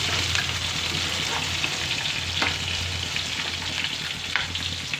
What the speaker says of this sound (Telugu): పచ్చిమిర్చి కూడా ఆనియన్స్ కూడా వేసుకుందాం వేగుతున్నాయి